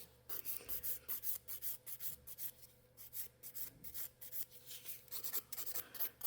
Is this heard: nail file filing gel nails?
yes